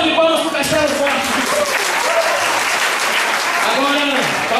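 A church audience claps for a small group at a Florânia presentation, a steady, dense wash of applause throughout with voices and singing-like tones rising over it.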